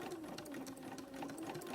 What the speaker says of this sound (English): My sewing machine doesn't like a whole lot of thickness